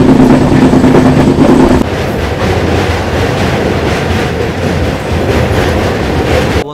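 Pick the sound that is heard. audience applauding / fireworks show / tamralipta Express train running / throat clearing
tamralipta Express train running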